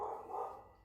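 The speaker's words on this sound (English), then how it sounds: "don't mind if you hear some barking there. It's my neighbor." A neighbor's dog barks once from next door, a short muffled woof that fades out within a second, heard through walls at a modest distance with no talking over it.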